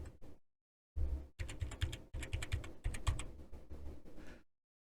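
Someone types a password on a computer keyboard, producing close, clear clusters of rapid key clicks in several bursts separated by short pauses, with no talking.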